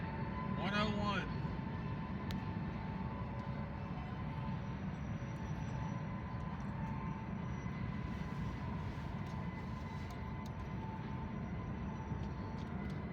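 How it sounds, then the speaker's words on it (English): Freight train gondola cars rolling around a bend give a steady rumble with a faint, continuous high metallic squeal. A brief rising whistle-like tone comes early on. "I think the squealing I'm hearing is from those gondolas"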